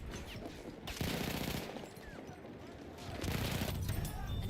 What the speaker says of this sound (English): That's an enemy machine gun.